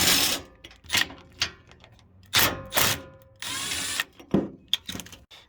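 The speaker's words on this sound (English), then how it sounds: "we're just gonna hit each of these 10mm bolts on either side of the module here" A cordless power tool backs out the 10mm bolts on either side of the fuel control module of a 2009–2014 Ford F150 in short, close whirring bursts separated by brief pauses and small mechanical clicks.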